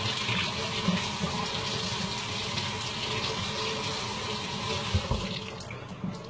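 Running water pours steadily over produce being rubbed clean under a kitchen tap, a continuous broadband splashing rush that holds fairly constant for several seconds, with a few small knocks near the end.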